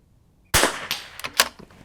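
A Masterpiece Arms Matrix Professional chassis rifle bolt is worked by hand, feeding a round from the magazine. A sharp metallic clack is followed by several quicker, lighter clicks and rattles, close up and alone.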